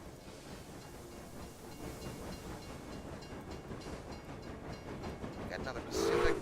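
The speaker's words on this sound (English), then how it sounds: "Got another Pacific working the express train." A steam locomotive hauling an express train in the railway management game Railway Empire rumbles steadily with a continuous hissing, rolling noise, ending in a brief louder burst near the close.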